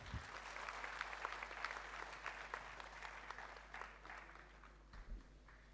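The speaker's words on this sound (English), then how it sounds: "I request you all please applause to all our awardees" Sustained applause from a ceremony audience honouring awardees, steady and fairly even throughout with scattered individual claps standing out, a low hum beneath, and a brief voice near the end.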